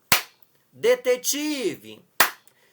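Two sharp single hand claps in a children's reading lesson, one just before and one just after a short spoken word, each crisp and close with silence around them.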